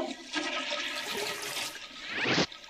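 A toilet flushes close by, a rushing gurgle of water that builds and swells, then ends in a brief sharp hiss, with no voices.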